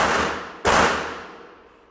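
Two sharp, loud gunshots from other shooters at an outdoor shooting range, the second following about half a second after the first, each with a long echoing decay and no talk over them.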